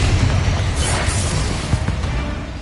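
A Confringo spell goes off as a fiery blast in a Hogwarts video game. It gives a dense, loud, rumbling roar that holds steady across the short moment, with no speech over it.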